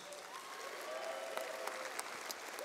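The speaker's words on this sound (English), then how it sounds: "one more round of applause for our honorees" An audience at a Hall of Fame induction ceremony gives its honorees a steady round of clapping, moderately distant and even, with a few sharper claps standing out near the end.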